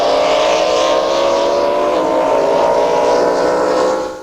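A 1980s drag boat racing on Lake Irvine, its engine a loud, sustained droning roar that holds steady for about four seconds before beginning to fade, with no voices over it.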